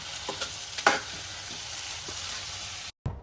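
Pumpkin pieces frying in a pan with coriander, a steady close sizzle with a few light stirring scrapes, ending in an abrupt cut.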